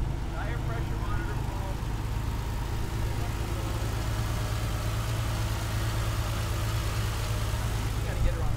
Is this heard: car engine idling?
yes